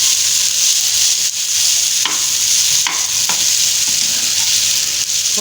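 Fried okra (bhindi) stirred into a spicy masala in a pan gives a loud, continuous close sizzle with occasional scraping strokes of the spoon, with no voices.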